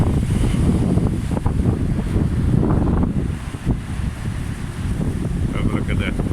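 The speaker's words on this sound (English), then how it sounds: "Wind's getting a little bit stronger now guys" Strong wind gusts buffet the microphone at Isipingo Beach in Durban, a loud continuous rumble with a faint wash of surf beneath it.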